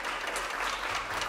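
An audience applauds the vocalists at an album premiere concert, dense steady clapping from a full room throughout, no voices over it.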